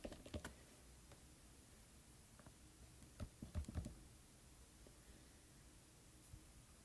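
Scattered, uneven keystrokes on a computer keyboard, tapped during an online math lesson on solving quadratic equations by graphing; soft, close clicks in brief clusters over a faint background hiss, with no talking.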